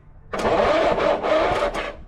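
The engine of a 1940 Keller Super Chief woodie cranks and catches briefly in a couple of rough, sputtering bursts, close and fairly loud, then quickly fades.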